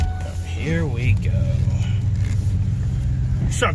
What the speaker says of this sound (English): This truck's fun to drive too. Man, this one just drives so smooth.